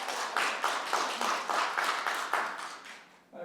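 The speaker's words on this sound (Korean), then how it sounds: "박수 감사합니다." Audience applause at a Korean talk concert, a steady crowd clapping with quick rhythmic bursts that carries on for a few seconds and tapers off near the end, with no voices over it.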